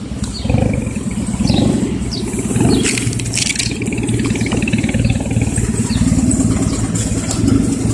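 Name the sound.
car engine revving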